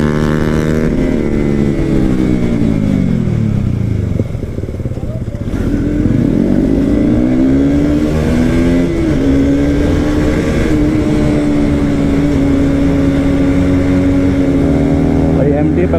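A Yamaha MT15 motorcycle runs at full throttle, its loud, close engine climbing through rising revs, dipping, then pulling hard again and holding a steady high drone, with other traffic around.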